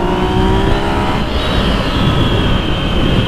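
A Yamaha MT motorcycle accelerates, its engine note loud and continuous, rising in pitch partway through as it pulls away, with steady wind and road rush throughout and no talking.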